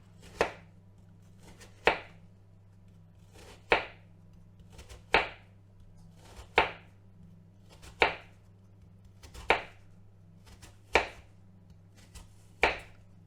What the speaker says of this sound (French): On va prendre un couteau, un gros couteau comme ça. Puis on va couper fin comme ça.